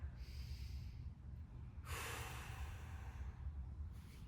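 A faint, deep breath during a mobility exercise: soft airy breathing, then one longer, fuller exhale in the middle, heard alone without talk.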